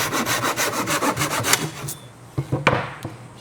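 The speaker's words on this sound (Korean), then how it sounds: "각도 절단기가 저 위에 있는데 너무 귀찮아 가지고 손으로 잘랐습니다" Wood being cut with a handsaw during a camper van floor-leveling and drawer build: about ten steady back-and-forth strokes, then a few scattered knocks and scrapes as the cut ends, close and alone.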